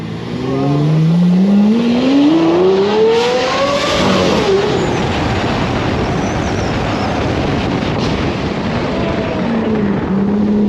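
A Lamborghini Aventador's engine roars loudly from inside the moving car, rising in pitch through repeated accelerations with gear-change dips, a dense continuous drone dominating close to the cabin.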